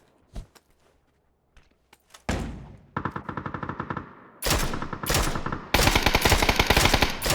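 Gunfire in PUBG: a few isolated sharp shots at first, then loud rapid automatic bursts in several sustained strings separated by brief pauses, close and dominant with no talk over them.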